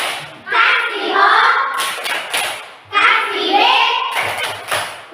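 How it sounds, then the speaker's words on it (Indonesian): A classroom group of students claps in rhythmic bursts between loud chanted cheers, with children's voices dominating and sharp clap volleys in short rapid clusters. "Tepuk tangan untuk kelompok Mamuli."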